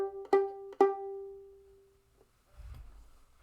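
Two plucked or bowed violin notes on G, the second ringing out and slowly fading, followed by a soft shuffle of handling noise.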